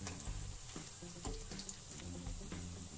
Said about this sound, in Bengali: এক পাশ ভালোভাবে ভাজা হয়ে গেলে এখন আমরা এটাকে উল্টে দেবো